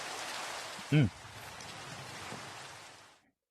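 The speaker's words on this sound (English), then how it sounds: "because it's raining" Steady rain in Minecraft VR (Questcraft) keeps up an even hiss throughout and fades out near the end, with one brief voice sound early on.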